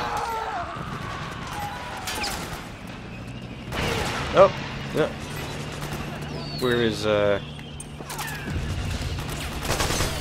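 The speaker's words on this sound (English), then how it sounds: "Where is that explosion coming from?" Gunfire and explosions from the video game Metal Gear Solid 4, with bursts and booms scattered through the clip under a player's talk and game ambience.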